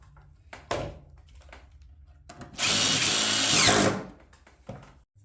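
A power drill bores through old skis being made into a chair, a single loud burst of about a second and a half whining through the material, framed by scattered handling clicks and knocks.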